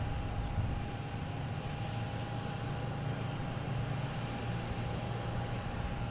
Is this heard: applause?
no